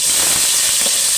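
A whole head of garlic sautéing in hot oil gives a loud, steady hiss for a brief moment, with no talking.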